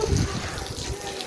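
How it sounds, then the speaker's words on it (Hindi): Water sprinkled across a household floor by hand during cleaning, a close, steady splashing and gushing wash that fills the short moment without pause. "जब तक पानी का छिड़काव मैं कर लूँ"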